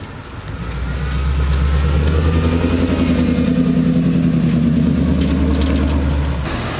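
A 1968 Ford F100 pickup with a swapped Coyote 5.0L V8 rumbles loudly and steadily up close, its engine note rising and holding as the truck drives off, with no talking.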